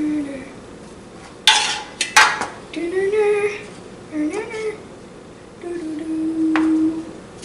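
A few sharp metallic taps and clatters of pans against a hard surface, spaced irregularly, with quieter scraping sounds in between.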